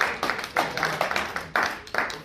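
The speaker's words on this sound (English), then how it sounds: "Let's give her a round of applause." A classroom gives a short burst of applause, a handful of sharp, uneven claps close by rather than a full roar.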